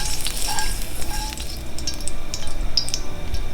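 Olive oil sizzles and crackles steadily in a hot pan while it heats for stir-frying beef chow fun noodles, with a dense broadband fry close up and small pops scattered throughout.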